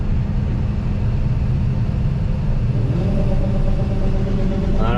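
Combine harvester unloading beans through its auger in a field, a loud steady engine rumble with a constant mechanical drone and a faint rising whine near the end.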